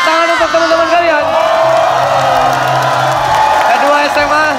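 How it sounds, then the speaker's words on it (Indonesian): A loud school crowd of high-school students whoops, cheers and claps at a game-show challenge, sustained and close throughout with voices shouting over the applause. "Tepuk tangan untuk teman-teman kalian"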